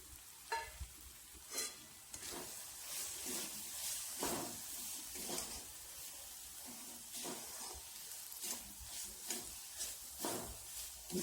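Spices such as chili powder, garam masala and coriander powder sautéing in a pan for eggplant bharit, a soft sizzle with repeated brief scraping stirs at irregular intervals, close and quiet.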